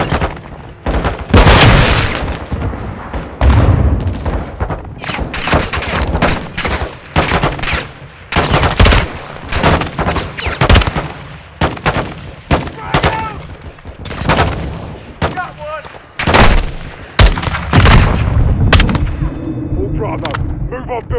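Loud, dense bursts of gunfire and heavy rocket impacts crack and boom in rapid succession during a Modern Warfare 2 firefight at a crash site, with occasional radio-style voices in between.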